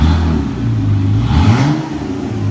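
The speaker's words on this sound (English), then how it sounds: "You hear the revs" A 2013 Jeep Wrangler JK with its electronic exhaust cutaway open revs, a deep rumbling engine climbing and falling in pitch, loud and close throughout, with no voices.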